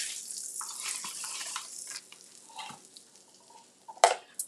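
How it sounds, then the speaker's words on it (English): Butter sizzles on a pancake griddle, a steady close hiss for the first couple of seconds that then thins to a quieter crackle, ending with a brief louder scrape or clatter near the end. "Butter on the griddle."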